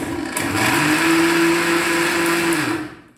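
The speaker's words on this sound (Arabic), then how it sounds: "غنطحنوه مزيان" A blender grinds crepe batter ingredients at a steady high whine for about three seconds, starting abruptly and spinning down at the end, with no voices over it.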